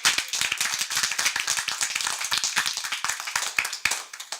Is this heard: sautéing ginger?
no